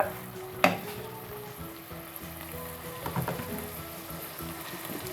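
Pulao masala sautéing over raised heat, a quiet continuous sizzle with a sharp clank near the start and a few scraping stirs later, close and without speech.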